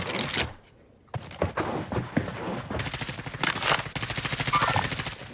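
Rapid automatic gunfire from a JAK 12 build in a video game shootout, bursts of close cracking shots that pause briefly, then resume in dense rattling volleys near the end.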